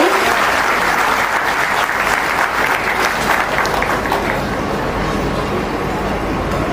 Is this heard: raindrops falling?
no